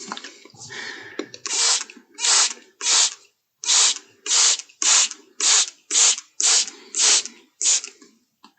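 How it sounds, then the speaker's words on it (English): A spray bottle spritzes water in about eleven short, sharp bursts at a steady rhythm, close by and fairly loud, with a quieter rustle at the start. "and spray on your painting after applying these brush pens"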